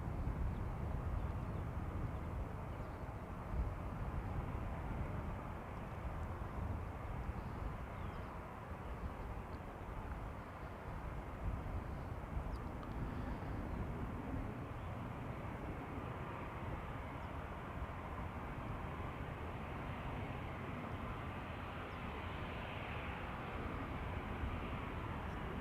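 Lufthansa airliner in Star Alliance livery at Amsterdam Schiphol, a long, distant, even jet-engine drone that hangs at a moderate level for about twenty-five seconds without voices.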